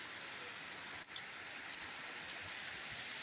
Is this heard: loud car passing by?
no